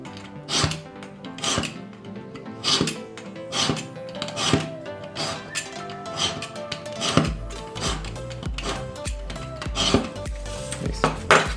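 A scalpel scores a copper PCB board in a home workshop, cutting first with the sharp edge and then with the back of the blade. The strokes come as a series of close, repeated scraping and clicking scratches in an irregular rhythm, with no talk.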